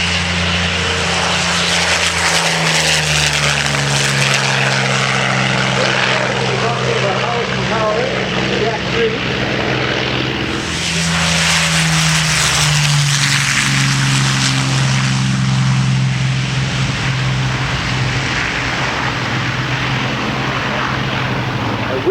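A restored WWII propeller airplane flies at a Virginia Beach airshow, its loud, steady engine drone holding throughout and swelling as it passes, with a public-address announcer talking over it.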